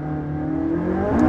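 A McLaren 675LT's 3.8-liter twin-turbocharged V8 hums nearby in a brief, steady tone that swells slightly toward the end, heard alone without talk.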